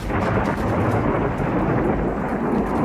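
A thunderstorm with heavy rain, a dense, loud wash of rumbling thunder and steady downpour filling the whole few seconds evenly, with no voices over it.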